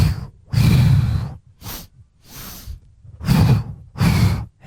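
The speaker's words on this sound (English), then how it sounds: "2-part exhale." Yoga practitioner breathing through a two-part exhale in a flow session: several long, breathy sighing releases come close and clear, broken by short catches and pauses between them, with no speech.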